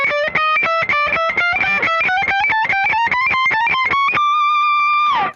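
A distorted electric guitar tremolo-picks a rapid, chaotic run, dense even strokes sliding upward in pitch before ending on a ringing sustained note. Loud and close, with no talk.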